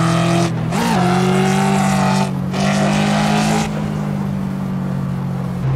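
A Ford Mustang GT engine in the racing game Assetto Corsa drones loudly and steadily at high revs, with brief dips and pitch changes between gears, an unbroken close roar with no talk.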